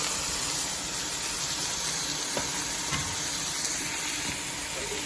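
Grass-fed ground meat hits a pan of Italian soffritto for Bolognese sauce, giving an even, steady sizzle with faint stirring scrapes throughout.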